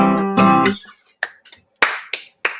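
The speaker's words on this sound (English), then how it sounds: "I'm clapping for all the hundreds of people who are" A few separate hand claps, near and fairly loud, spaced irregularly after a brief burst of music at the start.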